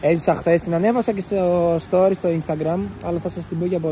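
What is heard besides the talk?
None of the usual background noises is heard.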